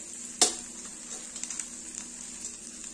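Okra sautéing and being stirred in a pan for a vegetarian thali, a faint steady sizzle with one sharp clatter near the start and light scraping ticks after.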